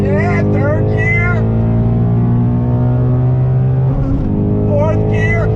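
A Ford Shelby GT350 engine pulls hard and climbs in pitch, drops on a gear change, then rises again in the next gear, loud and close from inside the cabin with voices over it.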